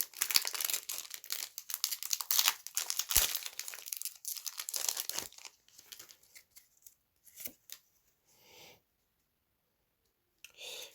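Digimon card game booster packs being torn open and their foil wrappers crinkled, a dense close crackle for about five seconds, then sparse rustles and soft handling sounds before a brief crinkle near the end.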